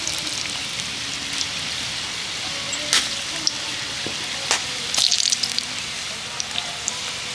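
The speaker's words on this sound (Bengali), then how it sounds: "এবার ওই তেলের মধ্যে পিঠেগুলোকে দিয়ে পিঠেগুলো ভেজে নিতে হবে" Pitha cakes fry in hot white oil in a wok with a steady, soft sizzle and crackle, broken by a few sharp pops and spatters, close and fairly quiet throughout.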